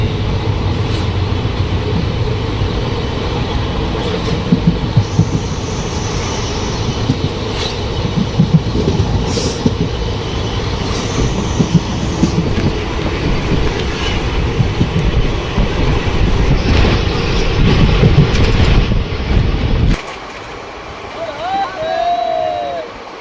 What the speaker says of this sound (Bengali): তো আমাদের ট্রেন রাজকোট জংশন ছাড়লো